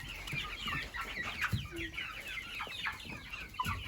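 Several chickens cluck in a busy, overlapping chorus, close by, with scattered short calls and a steady background of farmyard bird noise.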